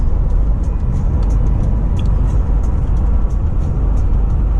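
Toyota Land Cruiser Prado cruising at 100 km/h on a long-distance drive from Vladivostok, a steady loud low road and engine drone filling the cabin throughout with no voices.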